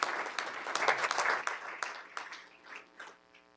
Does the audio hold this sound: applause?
yes